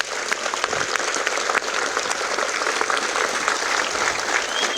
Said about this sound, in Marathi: एकदा तुम्हाला सर्वांसाठी शिवभक्तांसाठी जोरात टाळी आवाज आहे